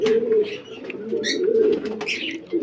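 Pigeons coo close by in a repeated low throaty rolling call, with a few brief higher chirps and rustles mixed in and no talk.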